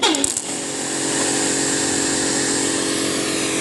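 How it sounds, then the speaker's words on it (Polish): A Karcher pressure washer motor with a failing bearing spins up sharply and then runs at a loud, steady pitch with a harsh grinding rattle, close by, with no voices. "strasznie hałasuje, tak jakby mu łożysko się w silniku rozlatywało"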